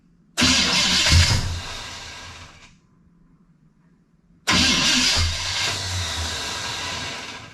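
A 1974 Pontiac Ventura engine cranks hard in two loud bursts with a silent pause between them, sputtering and trying to catch but failing to start.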